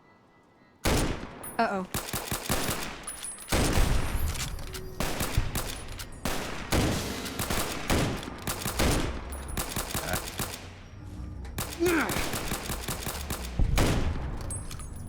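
Gunfire from a gun in the video game Fallout New Vegas comes in loud, sharp bursts of rapid shots with short gaps between them. The volleys repeat over the whole stretch and a voice speaks briefly early on.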